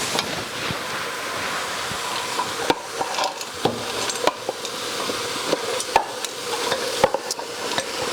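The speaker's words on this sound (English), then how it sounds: "I'm going to get my beans and scoop them all in." Dried beans get scooped into a soup pot that already holds potatoes and bay leaves, giving repeated scraping, rattling scoops and sharp knocks over a steady background wash.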